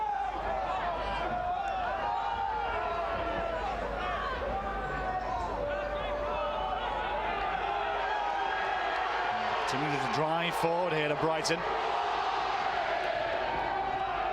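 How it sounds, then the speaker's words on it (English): Schoolboy rugby supporters, Warwick fans at an under-15 cup semi-final against Brighton College, make steady crowd noise with cheering and shouts while a commentator talks over it. "the Warwick fans are cheering their team on to try and cancel out the Brighton noise"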